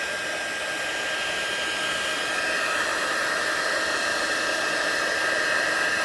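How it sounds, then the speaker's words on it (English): Handheld heat embossing tool running continuously at close range, a loud steady blowing hiss like a hair dryer with a faint high whine, lasting several seconds with no pauses. "I'm going to bring in my tool, my heating tool. I'm going to let it run a little bit."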